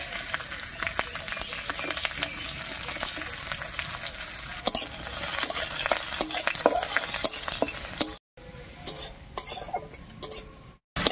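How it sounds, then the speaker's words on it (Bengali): Chopped garlic frying in oil with nigella seeds and dried red chillies, stirred with a utensil: continuous loud sizzle broken by repeated scraping clicks against the pan, with a brief pause near the end. "রসুন কুচি দিয়ে একটু নাড়িয়ে নিয়েছি।"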